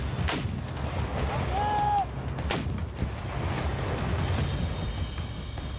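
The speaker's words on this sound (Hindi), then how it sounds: "ज़ेलेंस्की की फौज स्वीडन से मिले ग्रेनेड लॉन्चर से भी हमले कर रही है।" Grenade launcher fire in war footage from Ukraine, with sharp loud blasts standing out over a constant rough background rumble and a short whistling tone between them.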